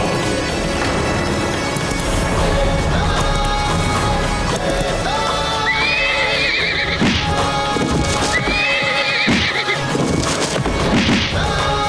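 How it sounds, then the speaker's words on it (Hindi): A horse in a historical TV drama neighs repeatedly and gallops with clip-clop hoofbeats, loud and close, under a dense musical score with no talking. "ये पागल घोड़ा यहाँ क्या कर रहा है?"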